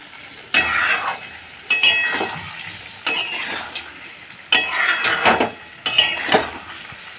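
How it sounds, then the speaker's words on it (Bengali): Meat is fried and stirred with spices for a Bengali kosha. About five loud, evenly spaced spatula scrapes against the pan sound over a low background sizzle, with no voices. "মাংসটা প্রায় কষানোই হয়ে গেছে।"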